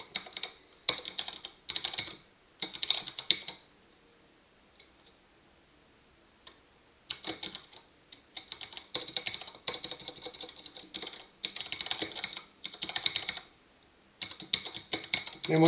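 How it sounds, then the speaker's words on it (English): Fast bursts of typing on a computer keyboard during a programming class, dense clicking runs separated by quiet pauses, close and clear with no talking. "Getting some typing fatigue here."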